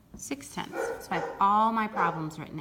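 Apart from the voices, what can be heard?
dog barking in a closed room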